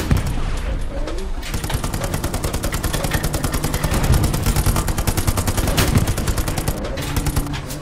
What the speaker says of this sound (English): Someone's shooting it, isn't there?